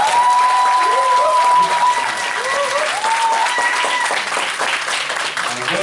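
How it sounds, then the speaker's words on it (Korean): An audience at a leadership lecture breaks into loud, sustained applause for two people, dense clapping filling the room throughout with some voices mixed in. "2사람한테 뜨거운 축하의 박수 부탁합니다"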